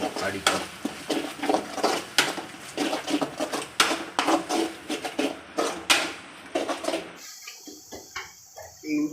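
Ginger and garlic frying in a pan over a low flame for beef sukka, with dense stirring and scraping clatter of a utensil against the pan, repeated irregular knocks over a soft sizzle, close and fairly loud, ending abruptly.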